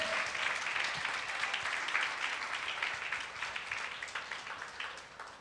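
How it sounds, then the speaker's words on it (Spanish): A church congregation gives a loud round of applause during a Sunday Spanish-language service, with dense, even clapping from many people that fades slightly toward the end. "Dale un fuerte aplauso a Cristo Jesús."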